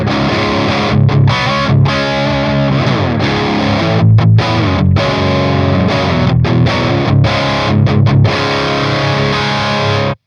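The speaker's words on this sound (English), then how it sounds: "So it's a nice and fat distortion, right?" An electric guitar played through a tube amp's high-gain channel with fat, saturated distortion, chugging chords and riffs with short pauses, loud and close with no talking.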